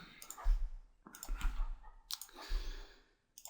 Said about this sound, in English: I'm pressing just F8 and making all these symbols.